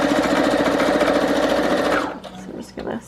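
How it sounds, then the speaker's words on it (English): A sewing machine stitches straight across textile and paper collage tags, a fast steady mechanical rattle for two seconds that then stops, leaving quieter handling noises. "I'm just going to sew all the way across."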